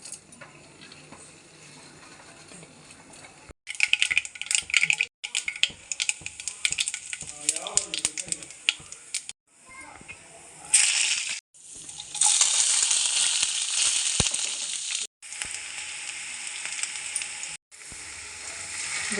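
Oil and ingredients frying in a pan for peanut gojju, bursts of bright crackling sizzle broken by short pauses, fairly close, with stirring scrapes and faint voice in the background.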